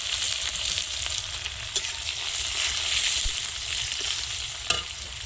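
Dried chillies, cumin and crushed garlic sizzle in oil in a wok, a steady close crackling frying hiss throughout with a couple of brief clinks from stirring.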